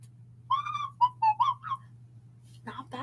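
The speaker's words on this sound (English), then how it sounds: "Can you whistle?" A person whistles a short melodic tune of several bright notes, some sustained and some clipped, over a steady low hum, with a brief burst of talk at the end.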